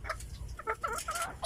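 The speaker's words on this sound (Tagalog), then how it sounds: "Manok ang bantam." A small bantam chicken clucks in short, close bursts, a quick run of soft calls over a low background rumble.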